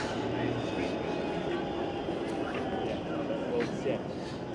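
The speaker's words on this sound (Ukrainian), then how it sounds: "Ось так виглядають тарантовські трамвайчики." A Toronto streetcar rolls past on a city street in Chinatown, a continuous low rumble and rail noise with faint metallic squeals, fairly loud and close, with people speaking over it.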